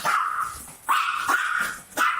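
A female dog barks indoors in a house, three sharp, fairly loud barks spaced out over about two seconds, with no talking.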